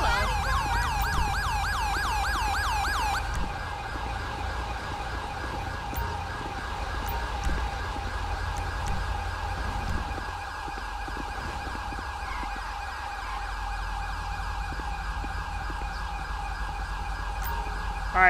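A wailing ambulance siren in Grand Theft Auto 5 with the LSPDFR mod sweeps up and down loudly for a few seconds, then gives way to a steady engine rumble with faint electronic tones.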